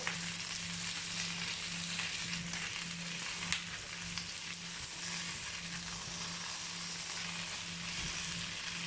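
Boiled potatoes sauté in a pan with a steady, dense sizzle and crackle, a low continuous hum beneath and occasional faint pops.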